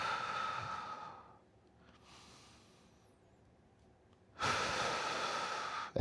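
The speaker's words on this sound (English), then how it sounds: "I'm going to take a couple deep breaths here." Deep, slow breaths from a person holding a lying spinal twist stretch in a bodyweight workout; a long exhale fades into quiet, then a strong near breath returns about two-thirds through, close to the mic with no talk.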